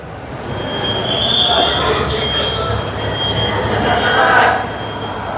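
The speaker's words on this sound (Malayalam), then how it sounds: "ഇവിടെ നിന്നാണ് ട്രെയിൻ സ്റ്റാർട്ട് ആവുന്നത്." Steady rail noise at a Mumbai railway station where trains start, a low rumble with a thin high squeal running throughout, busy ambient clatter, no clear speech.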